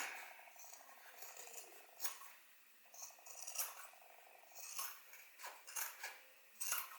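Scissors snip away excess fabric bulk from a sewn zip-around long wallet, making a series of quiet, crisp metallic cuts in uneven bursts close to the microphone.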